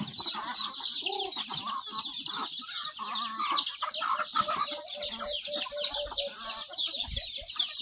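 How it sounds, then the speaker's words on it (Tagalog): Native chickens on a provincial farm clucking and chattering close by as they wait for feed, a busy, overlapping flock with a faint rooster crow in the mix. "Mga native chicken mga idol. Ayan, nag-aantay ng mga kain."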